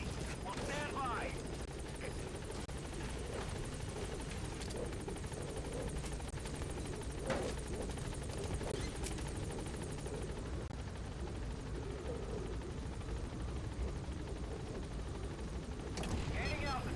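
Helicopter rotor noise from the Metal Gear Solid V game as the aircraft settles at a landing zone, a steady dense wash of engine and blade sound held throughout with a voice talking over it.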